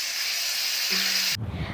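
Spices hit hot oil with bay leaf in a kadai, setting off a loud, continuous hissing sizzle that cuts off abruptly, leaving quieter low rumbling.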